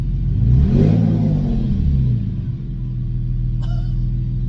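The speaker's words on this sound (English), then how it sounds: "I'll give you a little baby rev" A straight-piped Porsche 911 engine blips once in a short, deep, loud rev, rising and falling quickly, then settles into a rough, rumbling idle.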